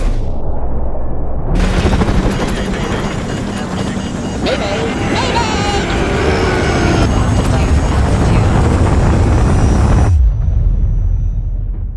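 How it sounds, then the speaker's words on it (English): A missile strike in Call of Duty 4: Modern Warfare hits with a sudden, massive roaring blast after a quiet opening. It becomes a loud, sustained rumble of fire and debris for several seconds before cutting back to a low drone. "What the bloody hell is that? Incoming missile!"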